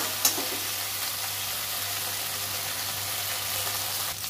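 Steady soft sizzle of frying in a pan as turmeric is added while cooking a potato dish, with a brief clink near the start and a faint stir near the end, no talk.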